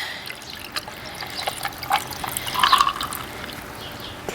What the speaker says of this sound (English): You're going to hear the ice cubes crack.